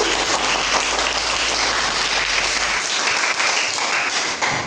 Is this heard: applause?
yes